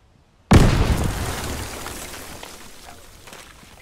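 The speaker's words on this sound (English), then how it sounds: "These might be mines, or mortars." One sudden, heavy blast from a mine or mortar in Arma 3 jungle combat erupts after a brief quiet, then a long rumbling, debris-filled decay fades over several seconds.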